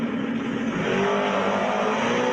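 Small-block, naturally aspirated G-body car engine revving hard, a dense, continuous roar that climbs slightly in pitch, loud and steady throughout without speech.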